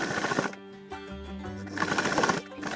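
A sewing machine runs in steady bursts of rapid mechanical clatter as it stitches a skirt's waistband, pausing briefly and restarting, close and fairly loud with no voices.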